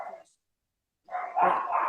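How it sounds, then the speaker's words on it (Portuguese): A dog barks briefly, then a longer burst of barking follows after a pause, mixed with a voice. "Quem que está latindo?"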